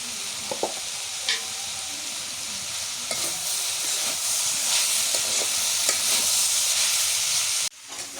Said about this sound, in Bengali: একটু রসুন বাটা দিয়ে দিই।